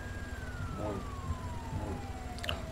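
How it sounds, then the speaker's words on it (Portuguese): A video game police siren wails, sweeping slowly downward in pitch over a low engine-like hum, with faint clicks and scattered background noises. "Eu tô vendo sirenes."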